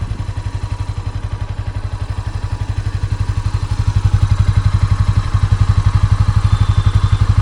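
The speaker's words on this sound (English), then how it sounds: "This is the idling sound." A Honda CB300F motorcycle with stock exhaust idles with a deep, bassy, thumping exhaust beat, steady and close, slightly louder toward the end.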